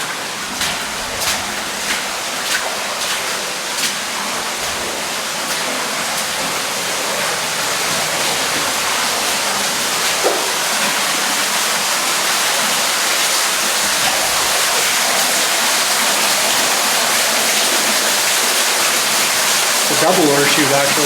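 Water rushes and pours continuously deep inside the Ottawa mine on level 8, a dense, steady roar echoing close by with a few faint knocks early on and no talk.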